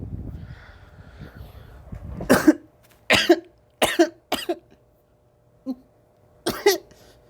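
A small child coughs in a series of short, sharp bursts, five or six spaced irregularly, fairly close and loud against a quiet background.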